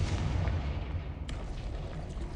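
A Confringo blasting spell explodes in the Hogwarts Legacy video game, a dense rumbling boom that rolls on continuously at moderate loudness with a brief sharp crack partway through.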